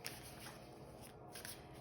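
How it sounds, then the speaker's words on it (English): Osho Tarot Oracle cards are shuffled and handled up close, a soft continuous papery riffling and sliding that is quiet and steady throughout and has no speech over it. "I'm going to pull a couple of Osho Tarot Oracle cards here"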